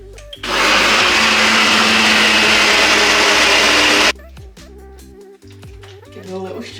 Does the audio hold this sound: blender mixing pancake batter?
yes